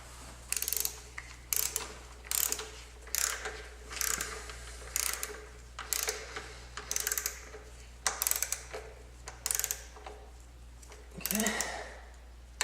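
A ratchet clicks in short repeated bursts while tightening a spark plug in the engine of a Mazda CX-9, close and fairly quiet, a dozen or so quick strokes with a steady hum underneath.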